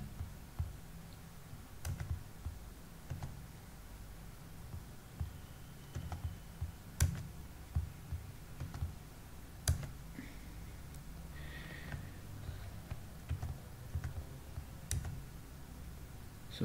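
Sharp, isolated mouse clicks sound at irregular intervals against a quiet room hum while working in Plaxis 3D software on a computer, each click brief and close, with no talking.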